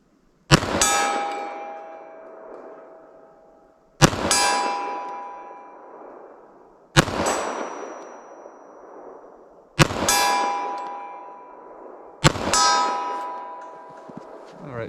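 Five pistol shots with a KKM barrel fired at a steel target 40 yards away, each a sharp ringing clang that decays slowly, spaced about three seconds apart and loud with no talking.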